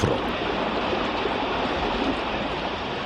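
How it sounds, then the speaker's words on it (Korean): Heavy water from a waterfall swollen by an unusually rainy summer, a steady broadband rush that stays loud and unbroken throughout with no voices. "그래서 이 계절이면 이렇게 폭포 경관이 장관을 이룹니다."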